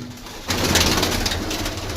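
Pigeon cooing close by at a rooftop loft, a soft throaty rolling coo that starts partway in and continues steadily.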